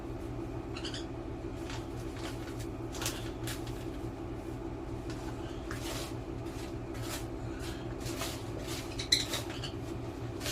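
Cerelac being stirred into homemade bird handfeed formula, with light clinking and scraping of a spoon against a bowl in irregular strokes, close but quiet over a constant background hum.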